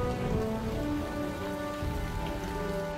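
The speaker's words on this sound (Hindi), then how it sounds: "बादलों का गरजना बरसना शुरू हो गया है।" Steady rain falls and patters on surfaces in the Amazon rainforest, a dense even hiss that continues without a break.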